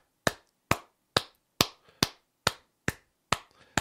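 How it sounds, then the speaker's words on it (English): Eight or nine crisp, evenly timed hand claps at a talk, quiet and close, as if from only one or a few people rather than a full crowd. "Let's give a round of applause for Corns the Booking Guy here."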